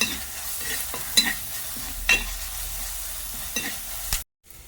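A coconut, chilli powder and turmeric paste with water being stirred into a curry produces scraping and knocking spoon strokes over a soft simmering sizzle, with a few sharp clinks before the sound cuts to silence.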